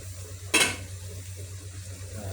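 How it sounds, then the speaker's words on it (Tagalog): A single brief scrape of a utensil against a pot of food on the stove, over a steady low hum and faint simmering bubbling. "Haluin natin para maluto yung ilalim."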